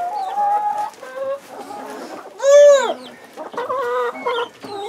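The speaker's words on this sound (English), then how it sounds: "Chicken!" Chickens clucking in a barn during winter chores, a run of short close clucks and squawks with one loud drawn-out crow-like call in the middle.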